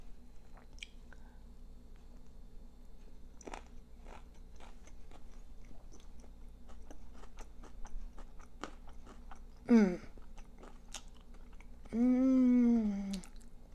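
Crunchy mac and cheese with pickled dill green beans being chewed close to the mic, soft repeated crunches and wet munching over a quiet room, with a couple of brief hums or voiced sounds near the end.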